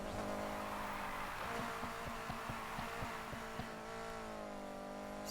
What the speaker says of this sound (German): So nice, schön im Kurve rumgedriftet.